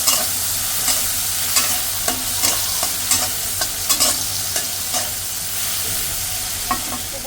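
Shrimp frying in hot oil in a pan, a constant close sizzle broken by repeated scraping stirs of a spatula at a loose, irregular rhythm, no voices.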